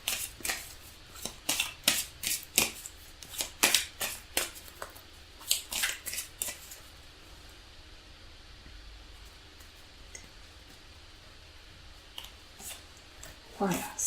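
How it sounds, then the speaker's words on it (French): Tarot cards riffled and shuffled in quick bursts of crisp flicking for about six seconds, then quieter handling as a card is drawn, recorded close by. "Alors on va prendre une carte conseil pour accompagner ce tirage."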